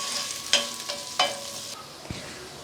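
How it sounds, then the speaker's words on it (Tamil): Long-sliced onion sautéing in ghee for ghee rice, a soft close sizzle broken by a few sharp spatula scrapes and a light knock, no one speaking. "இப்போ ஒரு பெரிய வெங்காயத்தை நீல வாக்கில் கட் பண்ணி சேர்த்துக்கலாம். இது லைட்டாக வதங்கட்டும்."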